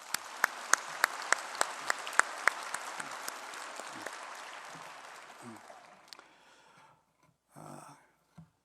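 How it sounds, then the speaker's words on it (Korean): A church congregation claps in thanks, starting with a few sharp, evenly spaced claps that swell into moderate applause, then fade to quiet with a brief murmur and rustle near the end. "우리 한 번 더 감사의 박수 드리십시다"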